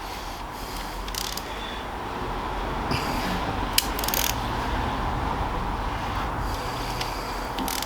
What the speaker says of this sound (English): I'm going to slacken them with the ratchet, because that one especially does not feel great